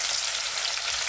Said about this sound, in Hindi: प्याज को ऐड करके हम इसको अच्छी तरह से हिला लेंगे।